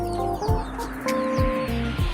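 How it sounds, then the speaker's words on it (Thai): A mother hen clucks in short repeated bursts, with several birds chattering and peeping nearby against a steady farmyard background. "ตอนที่แม่ไก่แม่เป็ดมาลงแล้วนะครับ"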